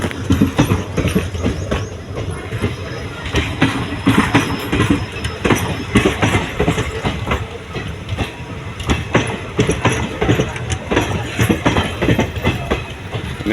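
Riding inside the Palakkad Express passenger train: a loud, steady rumble of carriages with rhythmic wheel clatter over the rails throughout, with no voices.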